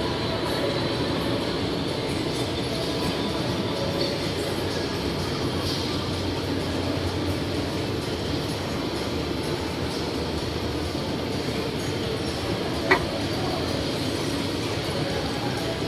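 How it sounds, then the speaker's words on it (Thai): The steady, loud rumble and hiss of a Bangkok BTS Skytrain running along its elevated track toward Mo Chit continues unbroken, with a brief sharp click near the end. "นี่นะครับรถไฟฟ้า BTS นะฮะ มุ่งหน้าสถานีหมอชิดนะฮะ"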